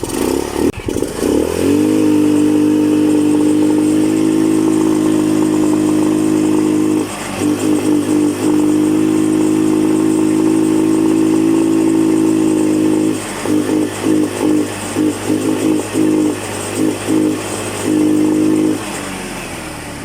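A Rusi Royal motorcycle engine idles steadily and loudly after a carburetor repair, then gets blipped in several quick revs near the end, close up with no talk.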